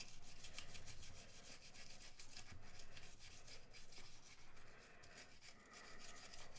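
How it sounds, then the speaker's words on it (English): A brush wet with CLP scrubs hard inside a Taurus G3 pistol slide, a steady close rasping rub with quick back-and-forth strokes and no talk. "We're going to get inside this slide and just scrub it real good."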